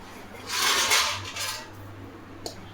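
Dishes and cutlery clink softly as food is served onto a plate in a home kitchen, a short burst of scraping and clatter with one sharp tap near the end.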